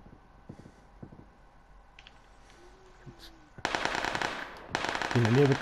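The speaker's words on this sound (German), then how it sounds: "In der Nähe wird geschossen" Nearby gunfire in the battle royale game PUBG: quiet clicks and a faint tone at first, then sudden loud, sustained automatic bursts that carry on to the end.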